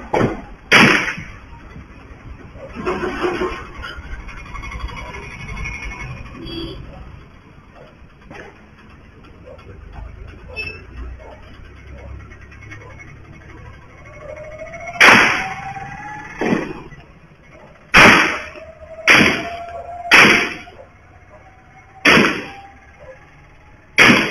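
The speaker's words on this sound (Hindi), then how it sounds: "बुलेट्स की लगातार जो है आवाज़ आती है" Continuous gunfire captured on a CCTV camera's audio: sharp, loud cracks come first in a pair, then after a quieter stretch of background noise arrive as a rapid cluster of repeated shots spaced a second or two apart.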